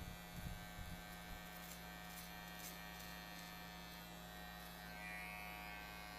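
A small electric finishing clipper buzzes steadily near the ear while tidying the hairline at the nape during a taper fade haircut, a constant close hum with no voices.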